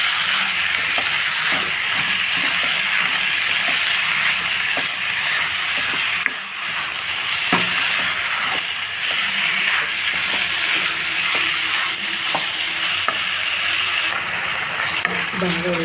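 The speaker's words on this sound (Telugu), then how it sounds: "ఒక 10 minutes ఫ్రై చేసుకొని ఆపేసుకోండి." Spinach fries in a pan on a stove, giving a continuous loud sizzle and hiss with occasional scraping taps as it is stirred, steady throughout.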